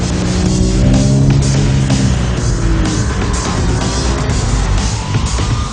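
A Porsche 911 GT3 RS engine roars loudly and continuously as the car is driven hard on a track, its pitch rising and falling through gear changes, with no voices.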